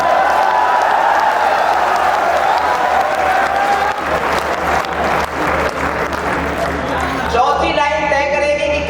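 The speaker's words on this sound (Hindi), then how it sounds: "मेरी बात अच्छी लगे तो तालियां सुनना चाहता हूँ" An audience at a Hindi poetry recital by a poet in Delhi breaks into loud, sustained applause with some cheering, fading as a voice takes over near the end.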